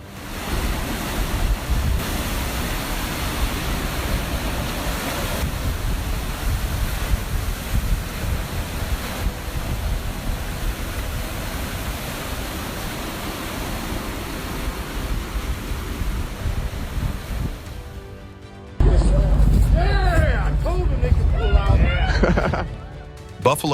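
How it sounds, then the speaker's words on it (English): Giant waves crash in a continuous, roaring wash of surf against a Michigan lighthouse, with heavy wind noise on the microphone, before the sound shifts abruptly to a different scene near the end. "Michigan Lighthouse struggles against giant waves seemingly being swallowed by the sea."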